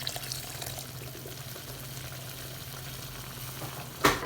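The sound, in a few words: water added to chicken curry, cooking in the pot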